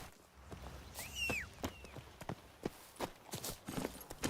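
Geralt's horse Roach walks in The Witcher 3, its hooves clip-clopping in a steady, close rhythm, with a brief whinny early on.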